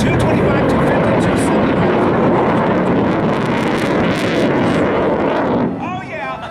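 A modified helicopter flying at an airshow gives off a loud, steady roar of rotor and engine noise with wind buffeting, fading slightly at the end as a few distant voices come through.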